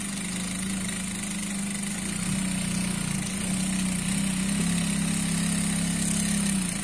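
A sewing machine stitches a straight seam on a Punjabi dress, its motor whirring in a steady, continuous hum for the whole stretch with no speech.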